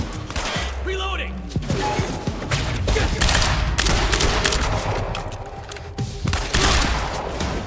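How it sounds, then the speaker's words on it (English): Rapid bursts of automatic gunfire and heavy shots in the video game Quantum Break, dense and continuous throughout with thumps and booms, while players shout over the fighting. "What are you shooting at?"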